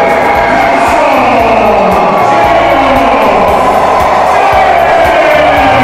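A packed arena crowd at a professional wrestling match roars continuously after an upset win over a former world champion, loud and sustained with whoops and yells throughout.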